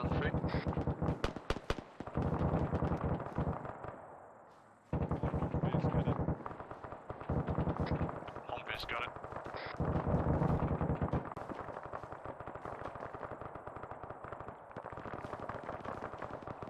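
Gunfire in the military video game Arma during a UNITAF operation: rapid bursts of automatic shots and single cracks, some sharp and close, others more distant rumbling, with radio-style talk over the firing.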